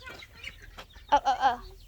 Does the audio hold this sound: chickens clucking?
yes